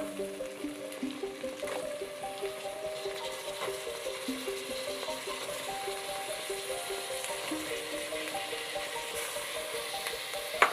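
Chopped beans, carrots and potatoes sautéing in a pan for broken wheat khichdi, a steady close sizzle with the soft scrape of stirring.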